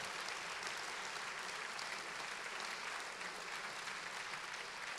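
Steady, even applause from a conference audience, a dense wash of many hands clapping that holds at constant strength throughout, fairly distant and with no voices over it.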